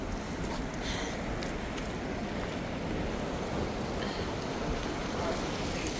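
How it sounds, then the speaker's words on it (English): Rushing water from a waterfall along the Yosemite Falls hiking trail, a steady broadband roar that fills the whole stretch at moderate level with no pauses. "More waterfalls to walk through."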